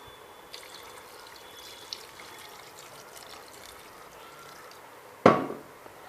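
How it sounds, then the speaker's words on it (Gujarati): Cold water from a clay pot is poured over freshly churned homemade butter to wash it, giving a faint, steady trickle with a brief louder splash near the end. "માખણને હવે ધોઈ લઈશું। આ મેં માટલાનું જ પાણી લીધું છે।"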